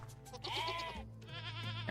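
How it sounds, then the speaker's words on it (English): Goat bleats in the survival game Vintage Story, a male goat ready to fight; several wavering bleats sound close and loud in quick succession over a steady low game hum. "Male goats will fight you."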